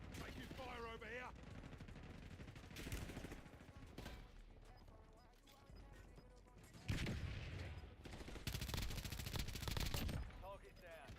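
Shooter video game gunfire, bursts of rapid shots erupting in several loud clusters amid game noise and chatter, strongest toward the end.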